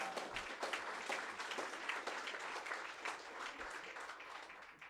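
A crowd of veterans applauds at a political rally for a governor candidate in a hall in Warrington, with steady, dense clapping that stays even from start to finish.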